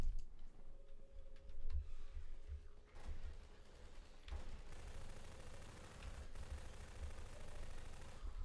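Automated turret gunfire in Half-Life 2 rattles in rapid bursts across the whole stretch, with dense ticking shots and a few louder cracks, loud and fairly close, with no talking.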